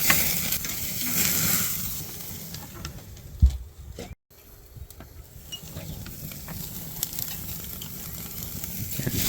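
Ribeye steaks searing on a hot grill give off a steady, loud sizzle and hiss that runs almost the whole time, with one brief dropout and a small clunk partway through.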